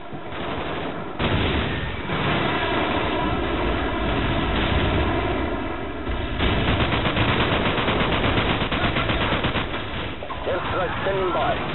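Bursts of rapid machine-gun fire and heavier blasts roll almost nonstop through an airstrike in Call of Duty Modern Warfare, with a faint aircraft rumble underneath, all loud and dense.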